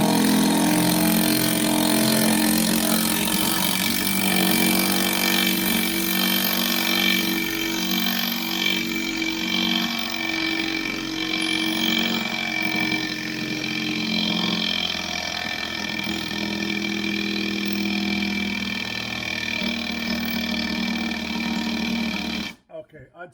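A 10-year-old Hitachi 10.8V cordless impact driver drives screws into wood without pilot holes, giving a loud, steady rattling hammer buzz that runs nearly unbroken for over twenty seconds before cutting off abruptly.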